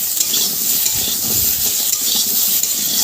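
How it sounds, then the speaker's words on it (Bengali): Potato and taro pieces frying in oil with turmeric and salt for a Bengali fish curry, a steady bright sizzle with repeated scraping and stirring strokes in the pan, close and continuous, no talking. "আবারও ভালো করে নেড়ে নেব।"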